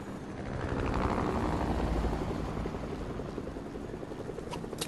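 Helicopter in a video game flying overhead, a loud chopping rotor roar that swells and then holds steady with a rapid pulsing beat, no voices over it.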